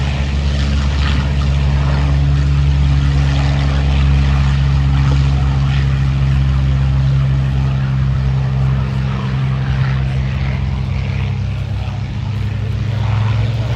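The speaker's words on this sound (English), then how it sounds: "On the takeoff roll, the first aircraft, the Curtiss P-40 Warhawk for that Allison P-17 engine." A Curtiss P-40 Warhawk with an Allison engine on its airshow takeoff roll gives a loud, steady, deep piston drone with strong low harmonics, sustained and close, under a wash of wind and crowd noise.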